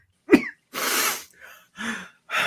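A man in a live stage play collapses into a chair and coughs, a sharp explosive burst followed by a few rough breathy coughs and gasps, close and clear in an otherwise silent room.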